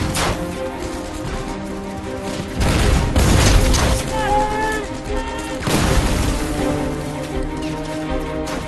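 Battle din of gunfire and grenade blasts as a Normandy company assaults a German hilltop bunker, with heavy booms and rumbling explosions amid a dense tonal score.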